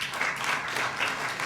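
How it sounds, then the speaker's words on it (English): Audience applause at a conference talk, a steady wash of many hands clapping together without pause for the whole stretch, moderately loud and fairly near. "You can applaud us."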